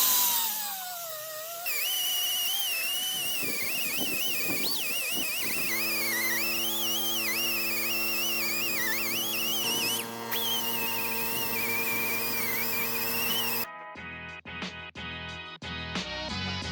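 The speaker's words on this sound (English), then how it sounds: "We'll get this cleaned up with a wire brush." A wire brush scrubs a Holley Systemax 2 intake with a steady, shrill, whining grind that runs close and loud for most of the stretch, then gives way to choppier, broken sounds near the end.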